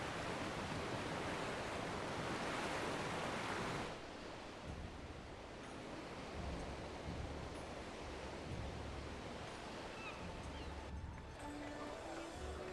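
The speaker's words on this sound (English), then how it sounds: "the crash of the waves as we drew closer to Kugane" Ocean waves near the port of Kugane across the Ruby Sea in Final Fantasy XIV, a broad, steady roar of surf that swells loudly at first, then settles into a softer wash with low rumbles.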